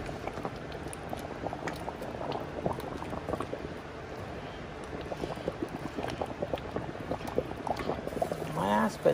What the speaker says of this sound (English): Reduce this heat to low so it can simmer.